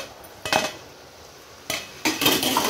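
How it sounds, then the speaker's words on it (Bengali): Wax gourd fry being stirred in a pan, a few sharp utensil scrapes and clinks against the metal, first a single stroke and then a longer run of stirring near the end, with no talk. "একটু নেড়ে চেড়ে দিচ্ছে দিদি।"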